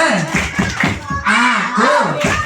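Children at an Islamic kindergarten and primary school chant a rhythmic clap song, their voices loud and close over a beat of hand claps.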